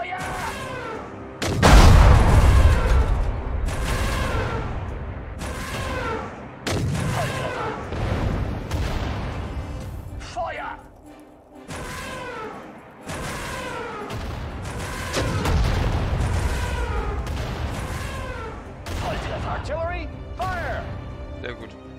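In the Sudden Strike 4 Ardennes Offensive campaign, gunfire and artillery from a World War II battle boom and crackle continuously. Heavy blasts sound over dense shooting, and voices speak over the fighting throughout.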